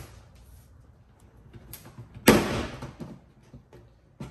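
A sharp plastic pop as a door trim panel is pried loose from a Tesla Model Y, one loud snap near the middle followed by a few softer clicks and rattles close by.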